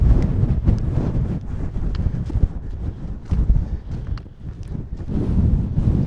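Breeze blowing across an open hillside at a wild camping spot, a steady rushing wind buffeting the microphone throughout with gusty low rumbles rising and falling, no talking.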